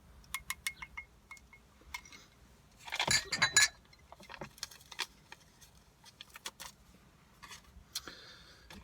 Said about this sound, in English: we'll just stir this up a little bit and let it sit for a moment or two